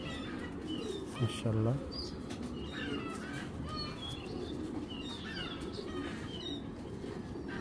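A male Hammer pigeon coos nearby in low rolling calls amid wing flaps and chirps from other birds, with a brief spoken exclamation and a short loud thump early on.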